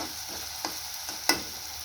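Green chilies sautéed in a pan for a spicy cowpea bean dish, with a faint sizzle and two or three brief spatula scrapes, the last one sharper, heard close and without speech.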